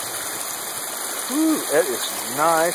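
At a trail water crossing at Robbers Cave, a stream rushes in a steady, close, broadband wash while a person briefly speaks over it.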